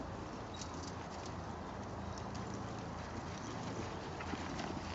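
Faint horse hooves clip-clop in a loose, steady rhythm over a constant outdoor hiss, with no one speaking.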